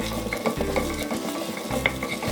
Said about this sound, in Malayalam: ഇതിലേക്ക് ഇഞ്ചി, വെളുത്തുള്ളി, പച്ചമുളക് ചേർത്ത് കൊടുക്കാം. എല്ലാം കൂടി നന്നായിട്ടൊന്ന് വഴറ്റുക.